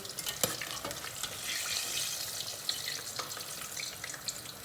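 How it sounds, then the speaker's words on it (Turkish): Eggplant fries in hot oil with a bright, crackling sizzle that holds steady throughout, dotted with occasional pops and a utensil knock close by. "Patlıcanı yağa attıktan sonra altını yükseltiyoruz."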